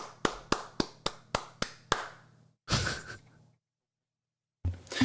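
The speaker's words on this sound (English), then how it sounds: "I'll clap for them so you can hear it." A single person in the House of Commons chamber during Question Period claps hands about eight times in an even rhythm, sharp and close. A brief rustle of noise follows, then silence, then another short burst of sound.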